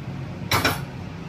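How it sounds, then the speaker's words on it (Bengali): Cauliflower pulao tipped from a cooking pot into a serving bowl, heard as one brief metallic scrape and clatter of the pot against the bowl, with quiet kitchen stillness around it. "আমি এবার এটা সার্ভিং বোলের মধ্যে ঢেলে নিচ্ছি"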